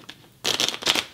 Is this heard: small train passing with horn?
no